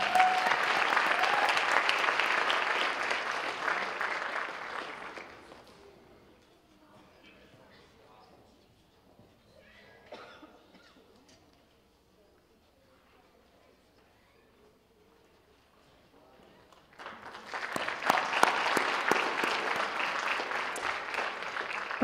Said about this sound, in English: I'd like to recognize him as well with a round of applause